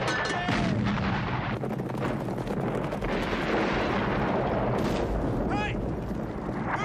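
Rapid gunfire and booming artillery blasts crash continuously through a film battle scene set among Australian light horsemen, loud and dense with overlapping shots and a few high whistling streaks.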